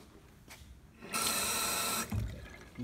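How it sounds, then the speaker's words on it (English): A tap runs in the old food technology classroom of an abandoned school at night, a steady loud rush of water lasting about a second, then stopping, with faint room noise before and after. "Water's still on."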